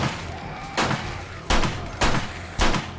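Pistol gunfire in the video game 7 Days To Die: four sharp, loud shots spaced roughly half a second apart over steady game background noise.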